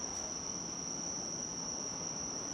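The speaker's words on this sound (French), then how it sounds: "C'est des cigales" Cicadas drone steadily in a dense, continuous high buzz that stays unbroken throughout, with faint ambient background beneath and no voices.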